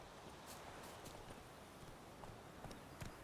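Horse hooves clip-clop at a steady walking pace in The Witcher 3 video game, moderately loud against a dense, continuous background wash.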